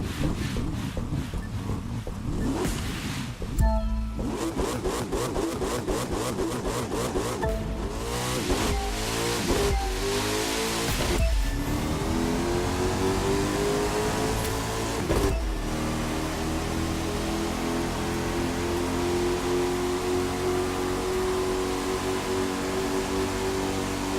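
A car engine revs hard in the racing video game The Crew 2, pitch climbing through repeated gear shifts over about twenty-four seconds, loud and continuous with wind-like noise.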